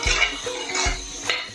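A metal spoon stirs turmeric and coriander powder in a pan, scraping and clinking against the sides in a few repeated strokes. It is close and fairly loud, with no talking.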